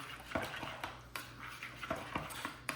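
A utensil scrapes and knocks against a pot while salt is stirred into water, giving repeated close clinks and scrapes in an uneven rhythm.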